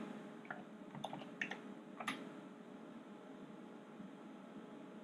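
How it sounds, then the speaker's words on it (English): Faint keystrokes on a computer keyboard at an SGI Tezro workstation running an IRIX 6.5.30 install, a short irregular burst of a few clicks over steady fan hum, with no voice. "I'm now going to type exit."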